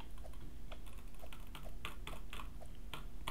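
Quick mouse clicks and key taps while playing Pet Simulator X come in irregular bursts of sharp, close clicks, some rapid and some spaced apart, over a low background hum, with no talking.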